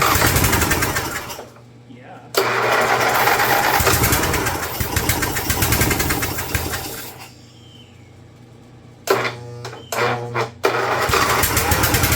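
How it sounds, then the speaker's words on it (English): A Briggs 12 HP IC engine on an older Snapper rear-engine rider, abandoned for years and fitted with a stinger muffler, cranks and runs with a steady, fairly quiet drone, cuts out, then sputters and restarts in bursts near the end. "Somebody put this weird stinger muffler on it. It's impressively quiet."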